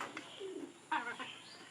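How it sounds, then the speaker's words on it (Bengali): Pigeons coo nearby in soft, low throaty phrases, with a brief louder burst midway and a faint chirp, otherwise calm. "এই যে নতুন কবুতর কিন্তু ভালো খাইলে।"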